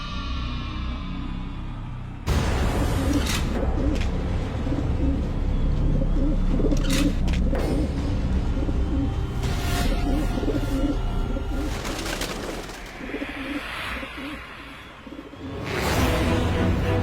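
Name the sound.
pigeons cooing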